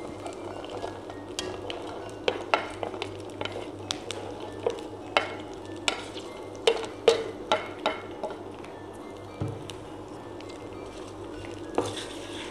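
Garlic sautés in hot oil with ginger, green chilli and curry leaves for a garlic pickle, a low sizzle under frequent sharp clinks and scrapes of a spoon against the pan, with no voices.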